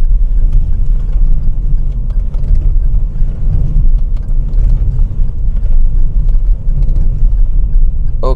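A Toyota Raize GR compact turbo SUV zigzags at 40 km/h, heard from inside the cabin as a steady, loud low rumble of road and engine noise with faint mechanical rattles.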